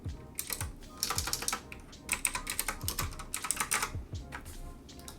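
Typing on a computer keyboard while entering text for a business card design, with bursts of quick clicking keystrokes in close, steady runs and brief pauses between them.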